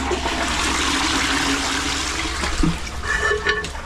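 A toilet with a makeshift refill hookup flushes in a steady rushing surge of water, close and fairly loud, easing into gurgles and trickling refill sounds toward the end, with no talking.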